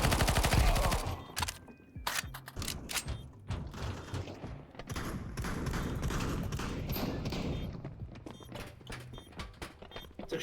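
Shotgun blasts and other gunfire in a first-person shooter match, loud dense bursts at the start and then a steady stream of shots and clatter with no pause through the whole stretch.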